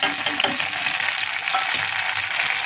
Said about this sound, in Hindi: अब हम इस पर जीरा डालेंगे, हरी मिर्च, हरा धनिया डाल देंगे।